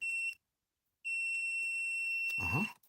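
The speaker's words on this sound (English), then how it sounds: "It does beep." A Toyota Prius second-generation parking brake warning sounds a steady high-pitched electronic tone that cuts out briefly, then resumes continuously, with a short clunk near the end; the handbrake switch is faulty.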